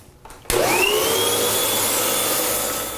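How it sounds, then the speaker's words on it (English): Vacuum cleaner switches on abruptly and whines as it cleans around refrigerator condenser coils, a loud close steady roar with a rising pitch that holds for several seconds, then begins to fade slightly at the end. "So just very gently go back and forth and vacuum away."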